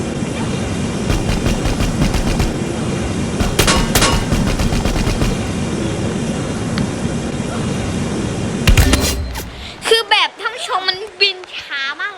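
Rapid automatic gunfire from a video game shootout, including gas-gun fire, crackles densely and steadily for most of the stretch, then breaks off into scattered effects while a player talks over it.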